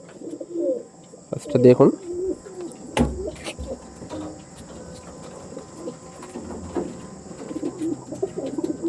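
New young pigeons with rings coo softly in a loft, low throaty calls scattered through the clip with chirps and some handling bumps, while someone talks in between.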